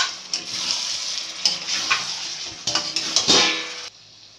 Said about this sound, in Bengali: চিকেনটা দিয়ে আমি সবগুলোর সাথে এবার মিশিয়ে নেব।